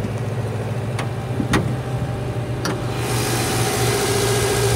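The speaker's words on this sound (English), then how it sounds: "Motor sounds excellent." A 2010 Subaru Forester 2.5X Premium AWD engine idles steadily nearby, a smooth low hum with a few sharp clicks early on and a slight rise in background noise toward the end, with no talking.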